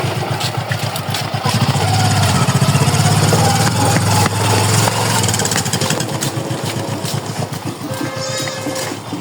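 A motorbike engine idles close by with a steady low rumble at an old house, joined by rattling mechanical noise and brief higher chirps near the end.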